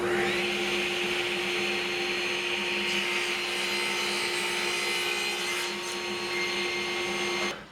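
A power saw cuts wood along a guide while bedside-table frames are built, a loud steady whining drone that holds for several seconds before cutting off at the end.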